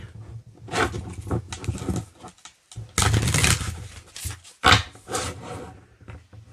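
Nightmare Before Christmas tarot deck being shuffled by hand, soft papery riffles and pattering card flutters coming in uneven bursts with short pauses, close and fairly loud.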